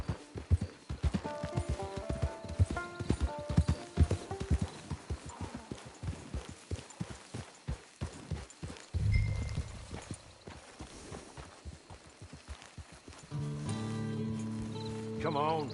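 Horse hooves clip-clop at a walk in the Red Dead Online video game, a steady, close rhythm of hoof strikes that thins out, followed by a snort and a low musical tone near the end.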